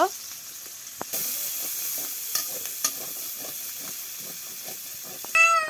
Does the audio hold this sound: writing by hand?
no